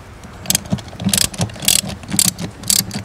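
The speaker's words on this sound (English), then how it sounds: "now we're going to need to get our ratchet on the unlock section, Adam" A ratchet wrench clicks away at a bracket fixing under a Ford Focus ST 225 during cabin filter work, several quick bursts of sharp ratcheting spaced out close to the listener, over a low background hum.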